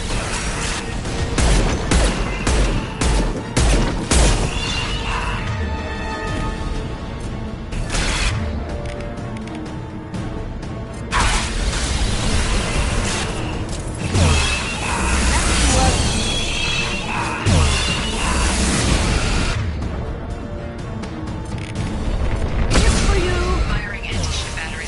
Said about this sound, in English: Firing anti-ship batteries at collector vessel.